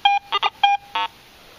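A Garrett AT Pro metal detector swept over a steel bottle cap gives a quick run of short electronic tones: clean higher beeps mixed with rougher grunting bursts, five in about a second, loud and close.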